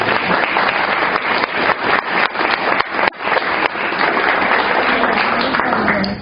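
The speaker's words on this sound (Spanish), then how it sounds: "Démosle ese fuerte aplauso de bienvenida." A church congregation gives a loud, sustained welcome applause, dense clapping filling the room close and steady, with a brief dip midway before it continues.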